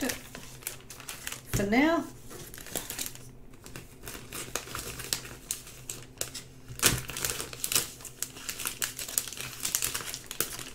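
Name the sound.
drawing slipped into a plastic sleeve, crinkling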